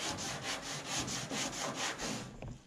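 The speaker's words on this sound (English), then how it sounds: "So let the sandpaper do the work." Sandpaper scrubs body filler on a 1969 Dodge Dart in steady back-and-forth strokes, roughly seven even rasping passes, close and unaccompanied by speech.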